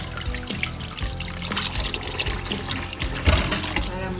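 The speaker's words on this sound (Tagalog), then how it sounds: "Ngayon huhugasan bago natin ilagay sa pressure cooker." Beef bulalo is rinsed under running water in a sink before pressure cooking, a steady close splashing and trickling with a few knocks of meat against the basin.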